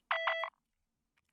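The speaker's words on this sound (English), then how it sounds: "that's being used at the same time as this little beep, which is the exact same patch as the ARP, just played in one note" Little synth beep from an ARP patch held on one note in an electronic track, a quick bright burst of three rapid pulses, then near silence.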